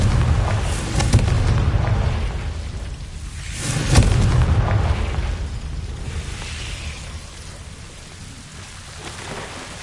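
The Confringo fire spell in the game Hogwarts Legacy lands with heavy, rumbling blasts, two stronger booms standing out amid a continuous roaring, crackling wash with no talk.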